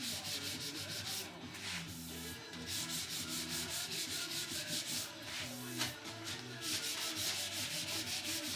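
Sandpaper rubs over the wood of a DIY Les Paul guitar kit in quick, steady back-and-forth strokes, close and continuous throughout.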